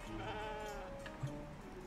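A sheep in the video game Lost in Play gives a clear, wavering bleat, heard fairly close against a soft background of game music.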